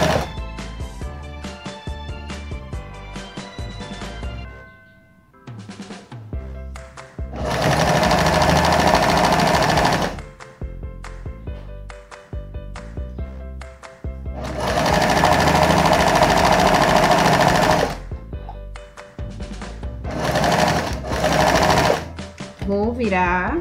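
A sewing machine backstitches a small triangular bar on a cloth mouth towel in rapid, loud mechanical bursts of several seconds each. Quieter pauses with clicks and handling fall between the bursts, and someone talks in between.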